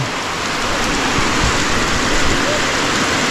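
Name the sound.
first rain of April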